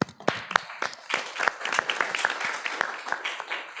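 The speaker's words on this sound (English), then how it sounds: "a nice applause again for the presenters" A small audience at an academic conference session claps in scattered, uneven bursts for a few seconds, moderately loud and nearby, without anyone speaking.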